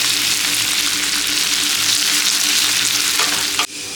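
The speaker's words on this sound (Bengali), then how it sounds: "তেল গরম হয়ে গেছে, এখন কুচনো পেঁয়াজটা দিয়ে দিব।" Chopped onion frying in hot oil for chhola bhatura, a loud, dense, steady sizzle right up close that cuts off abruptly near the end, with no voices.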